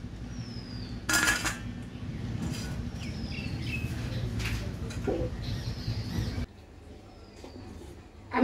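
Elephant foot yam stalks being cut by hand at home, a few sharp knife strokes and crunchy snaps over a steady background hum, with occasional faint chirps nearby.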